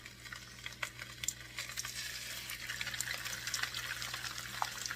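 Pork chops with fat on them simmering in a hot pan, a faint continuous sizzle and crackle with small pops, close and steady, no talking.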